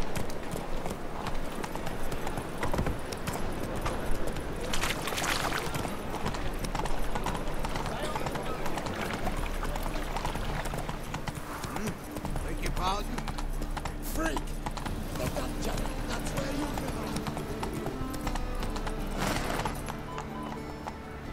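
Horse hooves clip-clopping on a road while riding in The Witcher, a steady rhythmic trot under dense game ambience, with spoken voices over it.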